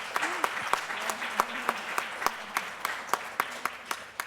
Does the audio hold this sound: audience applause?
yes